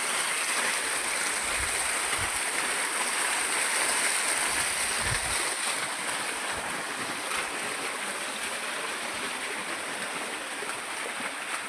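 Water gushes steadily into a tank being filled, a loud continuous rushing with a few low thumps early on.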